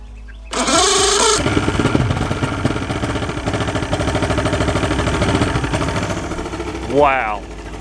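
A Mercury outboard motor, just repaired for a poor idle and run on flushing water, cranks with the key, catches at once and settles into a steady, throbbing idle, with a brief voice near the end.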